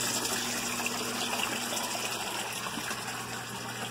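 Water pours out of a water box used as a tilapia fish tank, a steady rushing gush with a constant hum beneath it, unbroken for the whole stretch.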